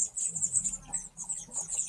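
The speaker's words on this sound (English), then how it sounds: "some pretty major bird cheepage here" Baby birds cheep from a nest overhead outdoors, a continuous thin chorus of high, rapid peeps at moderate distance, with no talking.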